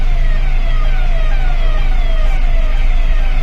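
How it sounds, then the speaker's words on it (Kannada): An ambulance siren wails in loud, repeated falling sweeps through heavy Kolkata city traffic, layered over the constant low drone of a truck engine. "ಆಂಬುಲೆನ್ಸ್ ಬರ್ತಾ ಇದೆ ಪಾಪ."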